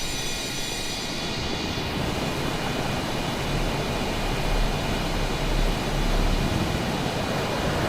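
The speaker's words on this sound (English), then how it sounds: "The biplane upside down, flying around and around there." Simulated biplane engine from Microsoft Flight Simulator, a steady loud droning roar with slight swells in intensity, heard alone without talk.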